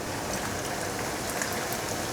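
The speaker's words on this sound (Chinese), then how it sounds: "油已经热了，放进来炸。" Tofu skin pockets coated in breadcrumbs frying in a pot of hot oil, a dense, steady crackling sizzle like rain, close and unbroken.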